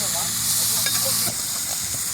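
Meat sautéing on a sac griddle outdoors hisses and sizzles steadily at close range, a broad bright crackle that holds throughout and eases slightly toward the end, with faint voices in the background.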